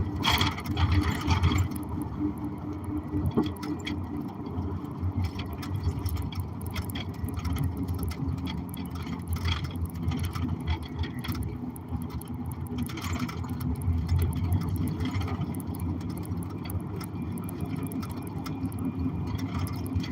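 A car rolls over a bumpy road, with a continuous low rumble of engine and tyres broken by irregular knocks and rattles from the cabin, steady and close throughout.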